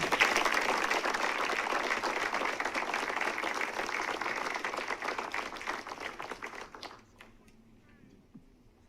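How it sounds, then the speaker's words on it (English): Audience at a Bermuda College event giving a round of applause, dense clapping for about seven seconds that thins into a few scattered claps and fades to quiet. "Let's give them a round of applause."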